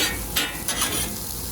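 Garlic, egg, onions and green onions being stirred together in a hot pan for hibachi-style fried rice, a steady sizzle with a few scraping strokes over about a second and a half, close up and alone.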